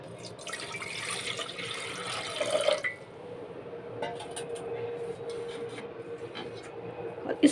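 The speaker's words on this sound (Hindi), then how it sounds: "डिक्ची में हम लोग डालेंगे बर्तन में 2 ग्लास पानी।" Water poured from a glass into a metal cooking pot in a home kitchen, a rushing splash for about two seconds, then quieter trickling and faint clinks, up close.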